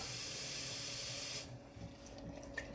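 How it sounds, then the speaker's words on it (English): Tap water gushes into a sprouting jar of mung beans in a steady rush for about a second and a half, then stops, leaving only faint handling noises. "I'm going to run some water in here"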